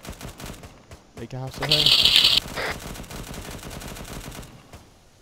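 Automatic weapon fire in a military video game: a rapid close burst of shots followed by a louder sustained volley, with radio-style voices talking over the action.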